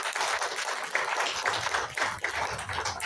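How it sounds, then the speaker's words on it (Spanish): A church congregation breaks into sustained, dense applause that fills the space evenly for several seconds, many hands clapping together at close range with no talking over it. "¿Cuántos pueden darle un aplauso al Señor?"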